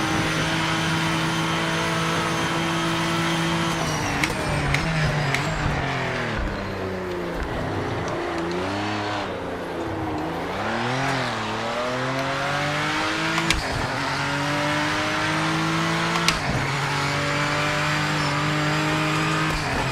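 A twenty-year-old race car's engine in the Project Motor Racing sim revs loud and close, whining up through the gears, then drops and climbs again through repeated shifts on a night session lap, running steadily with no talking.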